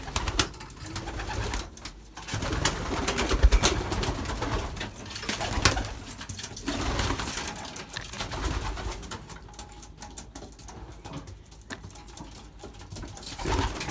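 Belgian racing pigeons coo repeatedly inside a loft, soft throaty calls overlapping at close range amid light fluttering and shuffling sounds.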